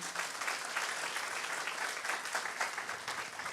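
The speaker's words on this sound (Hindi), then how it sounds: "तालियां बजाओ उनके लिए।" A crowd at a parliament session applauding steadily, dense clapping that holds at an even loudness throughout without pause.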